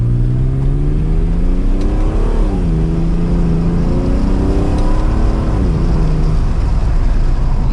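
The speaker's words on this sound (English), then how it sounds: "we're going to give it a small acceleration. Really listen to that exhaust again." A 1996 Acura NSX-T exhaust under light acceleration heard from inside the car, a loud continuous engine drone rising in pitch through each gear and dropping at the shifts, with no talking over it.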